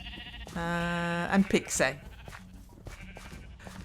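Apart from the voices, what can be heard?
sheep bleating in Minecraft video game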